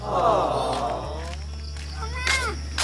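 A cat meows a few times close by in a rural farm setting, short plaintive calls following a louder drawn-out cry, with quiet background noise.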